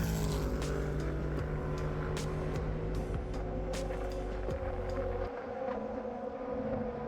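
Race cars at the Six Hours of the Glen endurance race pass close by, a loud continuous engine roar with layered whining tones that builds and then drops slightly as they move on.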